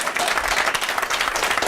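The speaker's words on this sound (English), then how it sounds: "And the crowd goes wild with excitement." An audience at a product launch boot camp event breaks into dense, lively applause, many hands clapping at once in a steady rattle that lasts the whole moment.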